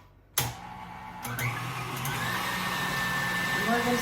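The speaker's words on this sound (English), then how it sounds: "I'm just going to use about 3 of the egg whites here. I'm going to throw them in my KitchenAid mixer." A KitchenAid stand mixer whisks egg whites for homemade non-alcoholic eggnog, starting with a sudden onset and then settling into a steady, loud motor whir with a high whine that holds for the rest of the moment.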